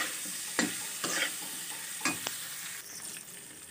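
Cauliflower frying in oil with salt and turmeric, a close, steady sizzle with a few sharp stirring scrapes and taps of a spatula in the pan.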